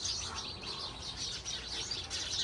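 Dense evening chorus of many sparrows, continuous overlapping chirps and tweets filling the scene at moderate distance, steady throughout with no talking.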